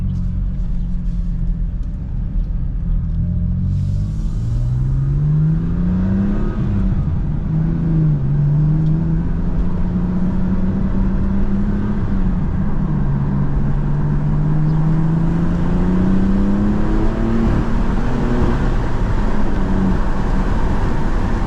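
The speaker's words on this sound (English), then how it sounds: "Definitely you hear the turbos a lot more." A BMW M4 Competition fitted with an AWE SwitchPath exhaust, in Sport Plus with the window down, accelerates hard. A loud, steady engine drone climbs in pitch through the gears over a constant road rumble, with no talking.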